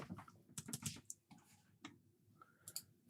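Quick, faint clicking of keys on a computer keyboard in irregular short bursts with brief pauses, heard up close in a quiet room while working on a Neo Geo AES console upgrade.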